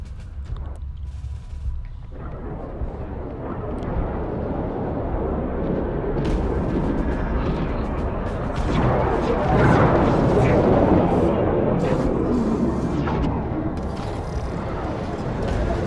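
Combat drones making simulated attack runs on a mothership while its defense turrets fire back in Homeworld 3: a dense, continuous wash of space battle noise, crackling shots and rumbling impacts that build toward the middle.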